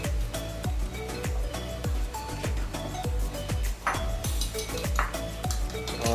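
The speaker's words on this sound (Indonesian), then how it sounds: "telurnya diaduk pakai ebi, dikocok" Eggs beaten with dried shrimp (ebi) in a bowl for fried lenggang with tenggiri fish, a fork or whisk clinking steadily against the bowl in quick, even strikes, close and clear.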